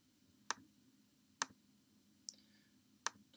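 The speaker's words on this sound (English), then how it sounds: "To open up Chemsketch, just double click it and click OK." Four crisp, faint clicks from a computer mouse on a Mac, two quick pairs of separate taps spread evenly over a few seconds against a quiet background.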